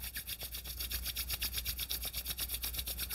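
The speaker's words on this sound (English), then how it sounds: "Rub your palms." Palms rub briskly together during a yoga breathwork session, a steady rhythmic swishing of rapid strokes with no talking.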